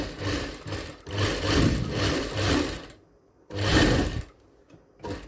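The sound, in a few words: sewing machine stitching a blouse on the marked line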